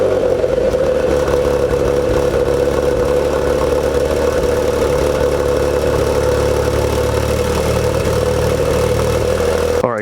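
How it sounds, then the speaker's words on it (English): Cold start of a 2024 Maserati GranTurismo Trofeo's twin-turbo V6: a loud, close, steady idle with a constant mid-pitched hum and whir, held evenly for about ten seconds with no talking. "let's go ahead and let's give this a cold start and let's see what the new V6 really sounds like"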